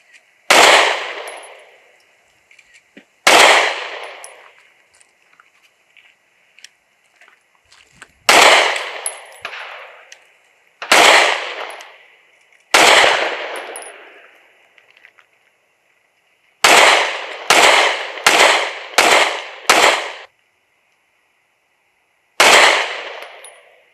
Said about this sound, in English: First, we each fired a 10-shot warm-up.